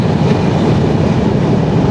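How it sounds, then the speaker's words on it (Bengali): Jahanabad Express passenger train running steadily after leaving Singia junction bound for Dhaka, a loud continuous rumble of wheels and carriages with a faint clatter throughout. "দুই মিনিটের একটা যাত্রা বিরতি দিয়ে জাহানাবাদ এক্সপ্রেস ট্রেনটি সিঙ্গিয়া জংশন থেকে ছেড়ে দিল তার গন্তব্য ঢাকার উদ্দেশ্যে"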